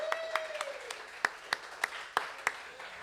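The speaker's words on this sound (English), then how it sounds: "Round of applause." A small student audience greets a guest from Fender with sparse, faint applause: about eight separate claps spaced unevenly over a few seconds, with a soft tone fading beneath.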